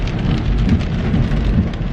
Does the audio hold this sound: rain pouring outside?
yes